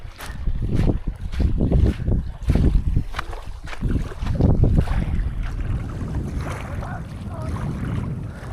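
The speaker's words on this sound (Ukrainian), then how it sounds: "Вітерець піднявся, то геть так тихо-тихо було, а зараз вітерець піднявся." Wind gusting over an open Ukrainian estuary shoreline while fishing, a steady broadband rush with low buffeting against the microphone, loud and close throughout with surges in the first half and no speech.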